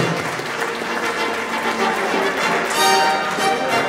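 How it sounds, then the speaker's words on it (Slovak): Loud applause from an audience at a graduation gala, dense steady clapping filling the whole moment with some crowd noise and a brief whistle-like tone near the end. "Gratulujeme, veľký potlesk"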